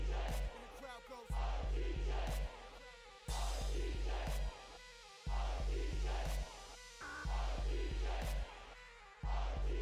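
A crowd at a mixed martial arts event in EA Sports UFC 3 roars under a loud, pulsing music track, with the cheering rising and falling in blocks over and over.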